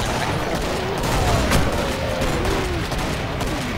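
Dense, continuous gunfire from the video game Killing Floor, rapid overlapping shots and bursts rattling loudly throughout with no pause.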